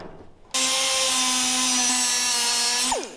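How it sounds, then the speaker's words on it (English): A die grinder cuts nuts off a wiper arm on a Toyota LJ20, a loud, close, sustained high-pitched whine starting abruptly after a brief quiet moment and holding steady before winding down at the end. "we need a die grinder. We're gonna cut the nuts off."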